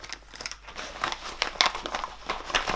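A Ziploc plastic bag from a gun cleaning kit crinkles and rustles in a steady flurry of small crackles, close by and moderately quiet, with no talk.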